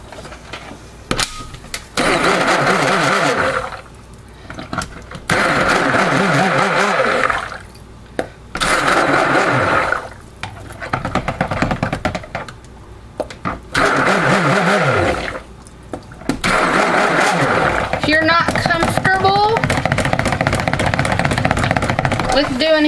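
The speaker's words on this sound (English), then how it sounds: "I'm going to use my stick blender just to buzz up these last few little pieces" A stick blender buzzes through soap batter in loud bursts, several pulses separated by short pauses, with a person talking in between.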